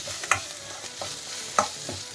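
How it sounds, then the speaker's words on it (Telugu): Ginger garlic paste fries in a pan, a soft low sizzle punctuated by a few sharp scraping clicks of a spatula stirring, close and fairly quiet, with no talking. "పచ్చి వాసన పోయేదాకా అల్లం వెల్లుల్లి పేస్ట్ వేయించేసుకుందాం"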